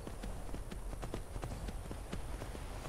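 A horse's hooves clip-clop steadily in a video game, a quick even trot heard close and fairly loud, with faint game sound underneath.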